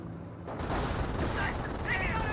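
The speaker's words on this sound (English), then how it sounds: "Did I hear two snipers, or was that just a whiff shot?" A sniper shot from Company of Heroes lands amid a dense wash of battlefield gunfire. A loud, sustained crackle of shots fills the clip after a short quiet lead-in, with a voice talking over it.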